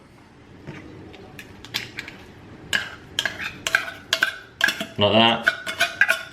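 Tuna being mixed in a bowl with a utensil, close up, as a quick high-protein meal is put together: a run of clinks, scrapes and knocks against the bowl that grows busier and louder toward the end, with a brief spoken remark.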